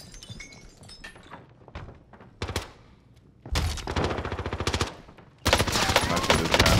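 Submachine gun fire in Warzone, a Type 63 SMG: short early shots, then two long loud rattling automatic bursts, close and dense, with brief pauses between them.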